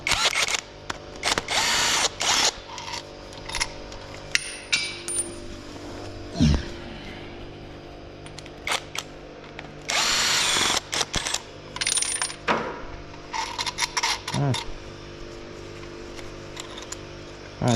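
An impact gun rattles out bolts on a Golf 7.5 TCR during an engine build, several loud close bursts of hammering whirr separated by pauses with metallic clinks of parts being handled.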